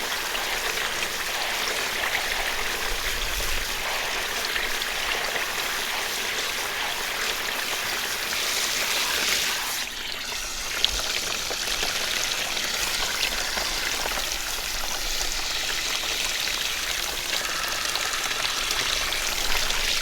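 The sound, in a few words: rinsing tie-dye t-shirts under running water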